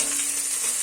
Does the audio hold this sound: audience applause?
no